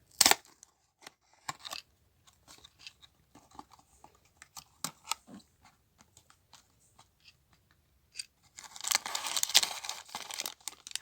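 A small cardboard mini figure box has its tab opened gently, giving sparse faint clicks and scrapes followed by a louder burst of crinkling and tearing near the end.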